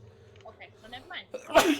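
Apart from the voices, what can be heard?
sneeze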